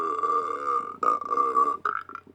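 A long, loud burp after knocking back a can of fizzy, sweet Iron Brew, a drawn-out rumbling belch broken into a few bursts, close up with no talking.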